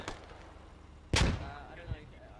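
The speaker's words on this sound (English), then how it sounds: "Throwing grenades everywhere." Grenade blast in the military shooter Squad, one loud close explosion with a long rumbling tail, a softer thud later and a faint earlier crack over ambient battlefield noise.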